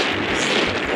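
Steady wind gusting across the microphone on the North Sea coast, a dense rushing roar with low rumble that never lets up for the brief moment.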